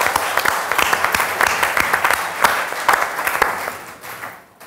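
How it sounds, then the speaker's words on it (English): An audience at a science festival talk on the search for life in the universe breaks into applause, dense close clapping that swells and then fades away toward the end. "I think we should give it a clap."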